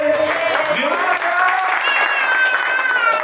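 A congregation at a church service for married couples applauds, with a thick wash of clapping filling the room under raised voices and singing-like tones.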